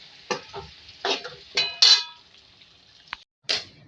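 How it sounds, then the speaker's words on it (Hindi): A spoon stirs chicken stew in a metal pot, producing several close scraping strokes against the pan with a light sizzle underneath and a faint clink of utensils near the end. "जी अब इसको मिक्स करेंगे और दम पे रख के सर्व करेंगे।"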